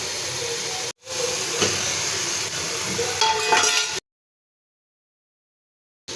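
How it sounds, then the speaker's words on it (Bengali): Mutton pieces dropped into a hot pan for frying, a loud steady sizzling hiss after a brief gap, with crackles and a few stirring scrapes before abruptly cutting to silence. "এবার আমি এখানে মাংসগুলো দিয়ে দেব।"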